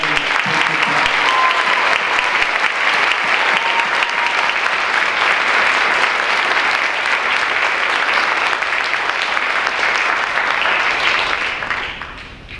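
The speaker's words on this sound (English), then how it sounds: "A round of applause for all of you." Loud, dense applause from a crowd at a Veterans Day ceremony, sustained clapping for about twelve seconds before it trails off.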